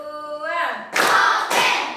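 A classroom clapping game: a voice calls out, then two sharp, separate hand claps follow in a steady rhythm, close and clear.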